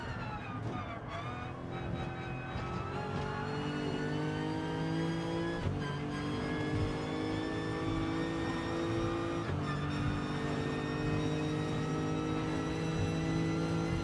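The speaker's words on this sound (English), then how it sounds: "I like the sound of this V8 motor." V8 race car engine on a hard, fast lap, roaring loudly from inside the car with rising revs, sharp gear shifts and repeated climbs in pitch, continuous and close throughout.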